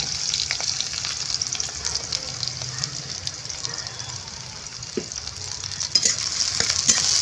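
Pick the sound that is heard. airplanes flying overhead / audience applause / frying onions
frying onions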